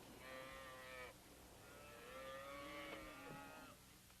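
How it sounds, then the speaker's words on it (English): Cattle moo on a ranch, two long, loud lowing calls from a herd in close succession, the second one drawn out, with faint ambient noise beneath. "Why are my cattle mixed with yours?"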